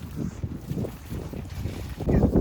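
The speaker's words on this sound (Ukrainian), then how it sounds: "Вітряно, дуже вітряно, дуже холодно" Strong cold wind at an outdoor work site near freezing, heard as loud, gusty buffeting on the microphone in uneven bursts that peak near the end.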